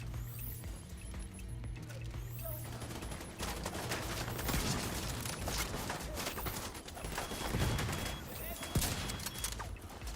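A gunfire barrage in the video game The Division 2, dense overlapping shots rolling on for several seconds with a voice talking over the battle.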